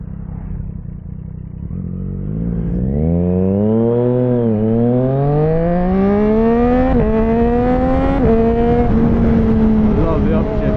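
A McLaren 765LT sports car engine revs hard and loud, climbing in pitch and dropping sharply at each of several quick upshifts as it accelerates.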